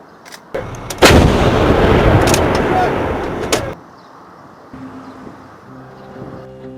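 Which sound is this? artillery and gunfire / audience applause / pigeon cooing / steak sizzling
artillery and gunfire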